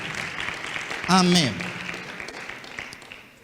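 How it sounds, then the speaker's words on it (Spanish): A church congregation applauds to honour the worship ministers, a continuous broad clatter of clapping beneath a voice, which rises briefly over it. "Le damos un aplauso en honra a ellos"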